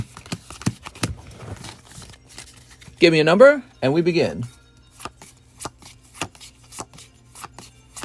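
Trading cards being shuffled by hand at a card shop, a run of quick crisp riffling clicks and taps under a brief spoken phrase.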